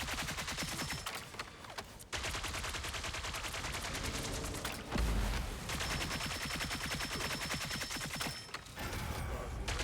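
Dense, continuous automatic gunfire aimed at squids during a Marvel Rivals zombie mode match, rapid shots rattling almost without pause across the whole stretch, with one short break, no talking.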